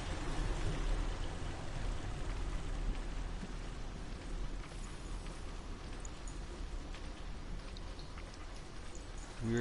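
Waterfall in the video game Hellblade: Senua's Sacrifice, a steady broadband rush of falling water that stays loud and even throughout, with no voices over it.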